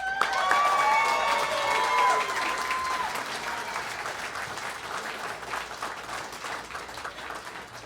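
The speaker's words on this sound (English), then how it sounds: "go ahead and give them a round of applause" Audience applause at a costume contest on stage at a fan convention, loud at first with a few voices rising over it, then easing to steady clapping that carries on to the end.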